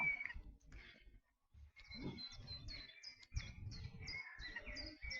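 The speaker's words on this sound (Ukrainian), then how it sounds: "Хочеться годинами сидіти і спостерігати за пташками, які плавають, які співають" Small birds chirp and trill in quick repeated phrases in a quiet botanical garden in Gütersloh in April, several calls overlapping at moderate distance over soft background rustle.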